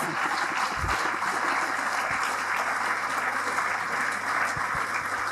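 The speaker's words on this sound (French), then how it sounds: "Ou les grands jeunes, est-ce que vous pouvez applaudir pour les jeunes qui sont ici?" An audience in a hall at an international forum of Congolese claps continuously, a dense, even roar of applause that holds steady throughout without a break.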